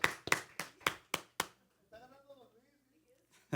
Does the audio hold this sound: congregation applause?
yes